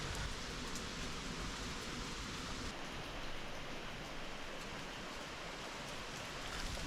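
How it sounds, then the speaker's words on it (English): Heavy rain pours steadily beside the River Tilt in Glen Tilt, a dense, continuous hiss close around the listener with no break and no voices. "It is chucking it down."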